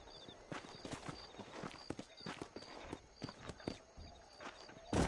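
Horses ridden in Red Dead Redemption out near Armadillo give off steady clip-clop hooves at close range. The footfalls sound brisk and overlapping, with a short louder thud at the end.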